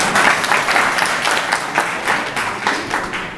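A crowd at an award ceremony for senior wrestlers in Malegaon claps loudly, producing a thick, close round of applause with loose rhythmic surges throughout.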